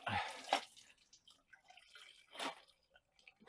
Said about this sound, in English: All the liquid poured off.